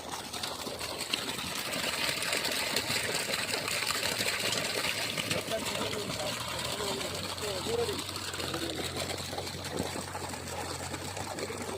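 A 6 hp borewell motor pump at 360 feet in Mandya, Karnataka, delivering water through a 2-inch outlet: a steady, loud rushing gush of water over a constant motor hum, with people talking faintly underneath.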